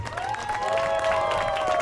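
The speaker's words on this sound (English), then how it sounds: "let's give a round of applause to all of the volunteers that have made this happen" Crowd applause and cheering at a charity walk and run event, a dense wash of clapping with a few voices shouting and whooping over it, steady and fairly loud throughout.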